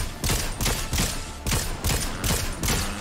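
Rapid bursts of automatic gunfire in the Fortnite video game, fired from a motorcycle, come in about six loud, evenly spaced volleys, each a sharp crackling fusillade with no talk over it.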